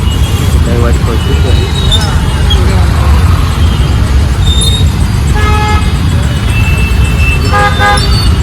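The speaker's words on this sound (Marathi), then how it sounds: "बघा हे ट्रॉफिक लागली सहा वाजल्यापासून ही अशी गाड्या पण हालत नाही" Heavy traffic jam on a road to Panvel, with a constant loud rumble of idling cars and buses and repeated horn toots near and far, while someone talks over the noise.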